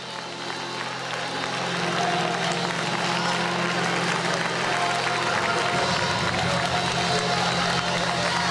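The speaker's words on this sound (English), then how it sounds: "Stand up on your feet, clap your hands, open up your mouth, and give him all the praise." A church congregation at a Sunday service claps and applauds in a steady, dense wash of sound that swells after the first two seconds and holds loud, with crowd voices and music mixed beneath the clapping.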